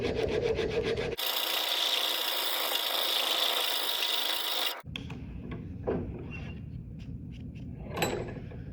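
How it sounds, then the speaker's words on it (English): A wooden knife handle is sanded by hand, giving a long steady rasping stroke, then shorter scattered scrapes and rubs close by, with no talking. "I'm going to continue doing this until I have sanded a nice angle between those 2 lines"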